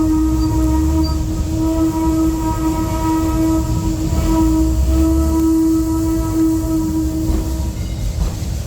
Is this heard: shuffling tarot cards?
no